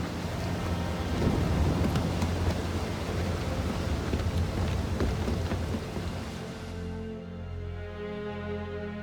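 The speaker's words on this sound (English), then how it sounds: "Alright, into the storm." Thunderstorm and heavy rain at sea in Assassin's Creed 4: Black Flag, a dense roar of rain with deep rolling thunder, loud and continuous, easing into a quieter steady rainfall near the end.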